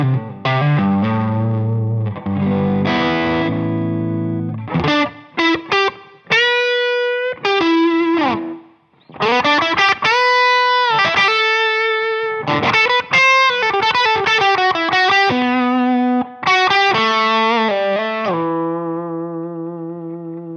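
An electric guitar plays through a REVV G2 distortion pedal. Saturated, sustained chords and single notes ring out in short riffs with brief gaps, loud and alone without talk.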